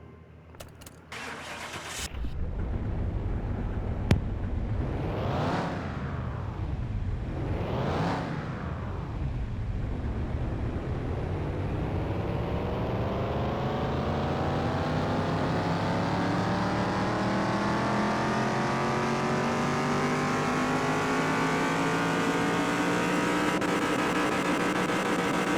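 A 1970 Bolt Atlanta muscle car on a dyno in Car Mechanic Simulator 2021 starts with a loud crank. Its engine revs up and back twice, then climbs in one long, steady pull toward high RPM, close and loud throughout.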